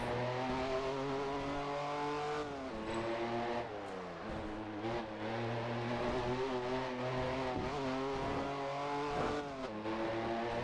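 A modded BMW M4 with an Akrapovic exhaust accelerates hard in Test Drive Unlimited 2, its engine droning and climbing through repeated gear changes in a loud, continuous roar with no talking.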